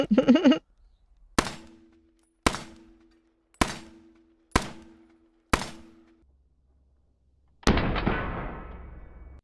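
An M1 Garand rifle fires in a row of sharp, evenly spaced reports, each trailing a short metallic ring. After a pause, a louder, broader burst closes the sequence.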